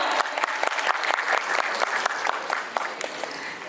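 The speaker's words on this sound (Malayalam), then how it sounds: "നമുക്ക് എല്ലാവർക്കും ഒരു വലിയ കയ്യടി കൊടുക്കാം" At a musical album audio launch, an audience gives a welcoming round of applause, dense steady clapping for a few seconds close by, without talk.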